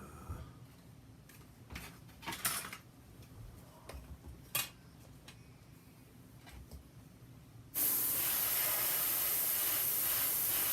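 A spray paint can in a graffiti video game: scattered faint clicks and taps, then a loud, steady hiss begins suddenly and continues to the end.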